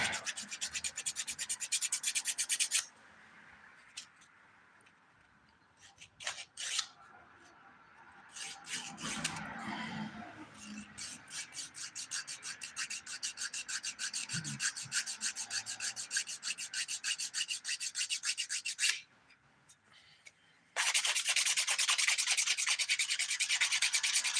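Fingernails are filed with the 180-grit side of a nail file, giving close, rapid back-and-forth rasping strokes in long stretches separated by brief pauses, with no talking.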